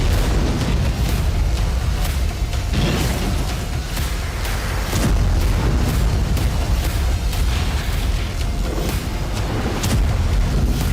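The Trinity nuclear bomb test explosion heard as a continuous heavy, roaring rumble with repeated booming swells and bursts, loud and dense throughout, with no voices.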